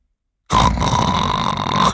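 A person imitates a snore with one long, rough, throaty rasp that starts abruptly after a short silence.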